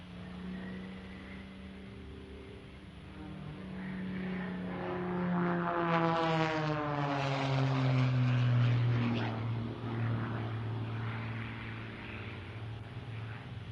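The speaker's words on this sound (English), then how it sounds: "Rob Holland with an incredible display of aerobatics in his MXS RH Special" Rob Holland's MXS RH Special aerobatic propeller plane flies a low display pass, its engine drone rising and then sweeping down in pitch as it passes by at a distance.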